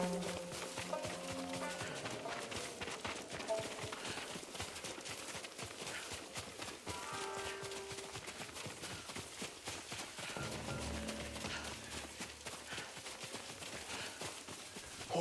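Horse hooves clip-clop in Ghost of Tsushima, a steady rapid galloping rhythm from several horses drawing near, faint and continuous over low ambient game music.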